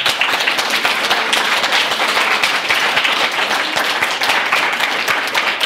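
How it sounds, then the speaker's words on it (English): An audience at a youth novelists' convention panel gives a big round of applause, thick continuous clapping from a roomful of people, loud and close, lasting several seconds. "Big round of applause for you guys."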